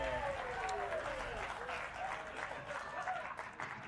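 A crowd applauds steadily for a few seconds, with a voice speaking over the clapping.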